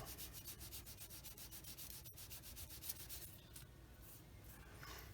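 Rapid back-and-forth rasping of a sanding stick on a hard plastic 1/48 scale model aircraft, steady and close, with a brief pause partway through.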